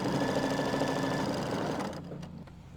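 An embroidery machine stitching a quilt pie block makes a fast, steady mechanical whir and rapid needle chatter that cuts off near the end, leaving a faint hum.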